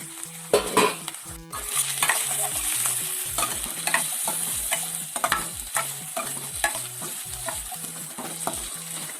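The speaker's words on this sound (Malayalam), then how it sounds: "ഈ ചെറിയ ഉള്ളി എണ്ണയിൽ നന്നായിട്ടൊന്ന് വഴന്ന് വരേണ്ടതുണ്ട്." Small onions sautéing in hot oil for a kadachakka (breadfruit) curry, with a steady sizzle broken by a rhythmic series of spatula scrapes and taps against the pan, close and clear.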